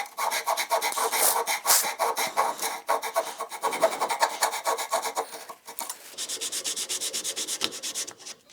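A hardwood table leg is sanded by hand in quick, rhythmic back-and-forth strokes, a close, scratchy rasping that speeds into a faster, steadier pattern near the end, with no talking.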